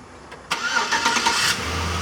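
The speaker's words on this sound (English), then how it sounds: "Cold start on the Silverado." Cold start of a 2006 Chevrolet Silverado truck engine: a sharp crank and catch, a brief rising roar as it fires, then settling into a steady idle, close and alone.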